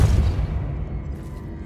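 A Depulso repelling spell cast in Hogwarts Legacy lands as a loud, deep boom that hits at once and fades into a low rumble, with no voices.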